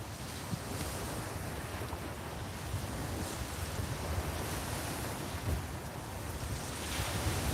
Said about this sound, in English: The sea sounds lively